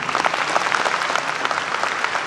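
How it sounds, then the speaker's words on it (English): An audience in a large auditorium claps for a singer's performance, a steady fairly soft ripple of many hands heard alone without talk. "If you like anything that I do, it's been done specially for today. Just clap."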